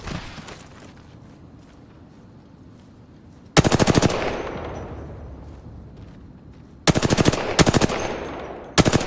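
Bursts of automatic gunfire in a battle royale video game, loud and close, with rapid rattling volleys starting partway through and several shorter repeated bursts later, over a low rumbling game ambience.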